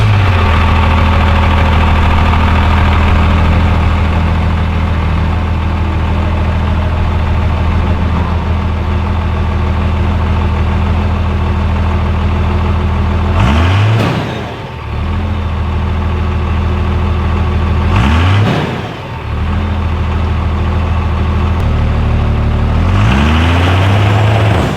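A heavy truck engine with a straight exhaust and new turbo idles loudly with a deep, steady rumble, revving up sharply twice and once more at the end before settling back.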